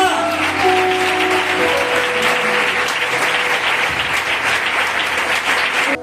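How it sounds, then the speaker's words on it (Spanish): A church congregation applauds continuously, a dense wash of clapping that stays loud and even throughout, with faint voices and tones underneath. "Dale un aplauso al Señor."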